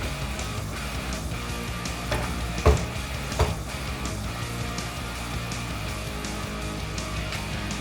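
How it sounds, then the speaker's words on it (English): Pasta tossed into a hot pan sizzles steadily, with a couple of brief louder clatters as it goes in and is stirred, then a continuous frying hiss with no talking. "Now I'm going to add my pasta to the pan."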